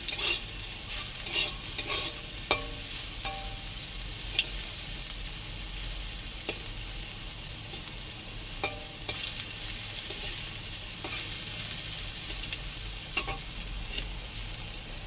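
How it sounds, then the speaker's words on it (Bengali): Bitter gourd fries steadily in a pan, a continuous sizzle with occasional light clicks of stirring against the metal, no voices. "উচ্ছেগুলো মোটামুটি ভাজা ভাজা হয়ে এসছে।"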